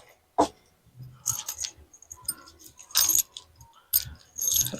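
Metal keys jangle and clink in bursts while a coin box for a coin-operated piso wifi machine is unlocked, close and fairly loud, with quieter rattling between the louder bursts.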